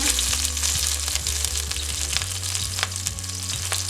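Green scallion and onion sizzle loudly in a hot pan for a vegan dish, a dense, constant crackle with sharp spits and a low hum running underneath, and nobody speaking.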